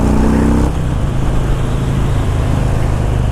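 A 2018 Harley-Davidson Breakout 114 with its 114 cubic inch V-twin rumbles on a test ride, a deep steady loud engine drone with a gear or throttle change early, heard up close without talk.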